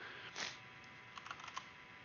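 Light taps on a computer keyboard come in a short quiet burst of scattered keystrokes, close and soft against a faint hum.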